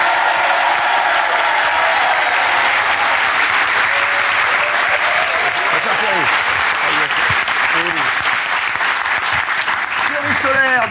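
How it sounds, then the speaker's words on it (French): A television studio audience applauds a guest. The clapping is loud and sustained from start to finish, and a few voices and cheers rise faintly through it. "Applaudissements pour lui."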